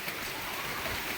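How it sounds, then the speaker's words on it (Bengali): Heavy rain falling outdoors, a steady dense hiss of water with no breaks, heard alone and fairly loud throughout. "বাইরে কিন্তু বৃষ্টি হচ্ছে প্রচণ্ড পরিমাণে"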